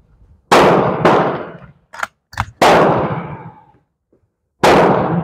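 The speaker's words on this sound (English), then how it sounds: "I'm going to shoot the target on the right." An M44 Romanian Mosin Nagant rifle fired outdoors: several loud, sharp reports, each trailing off in a long echo, with a couple of fainter metallic knocks between them.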